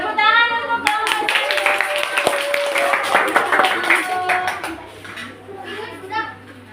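A classroom of fourth-grade children bursts into clapping for a group, a dense burst of small hands under overlapping kids' chatter and a teacher's voice.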